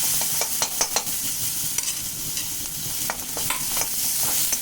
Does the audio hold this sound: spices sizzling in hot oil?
yes